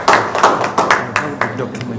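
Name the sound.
audience clapping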